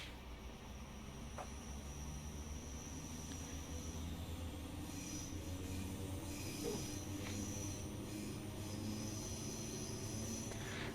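A train reversing slowly in a train simulator game, a steady low rumble of wheels and carriages with faint squeals and clanks over a constant mechanical hiss.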